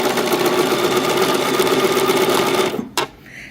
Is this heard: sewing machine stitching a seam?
yes